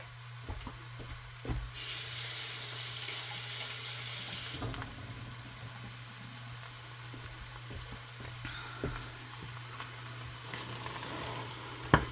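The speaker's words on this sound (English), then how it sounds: "I'm going to wash my hands." A tap gushes loudly for about three seconds then shuts off, followed by faint clinks and small handling noises over a steady low hum.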